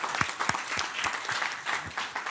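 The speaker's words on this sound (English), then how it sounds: "So a round of applause for you." A modest audience at a Local2030 special event gives a round of applause. Separate claps are close and uneven, spread across the room with loose rhythm, and the clapping runs steadily for a couple of seconds.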